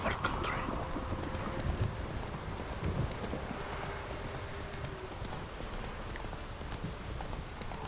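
Roach, a horse in The Witcher 3, galloping with rapid, steady clip-clop hoofbeats close by, repeated throughout under a light patter resembling rain, with a brief voice early on.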